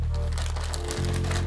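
A plastic bag full of old Battle Beasts and Transformers G1 toys crinkles and crunches in a steady close rustle under a low hum.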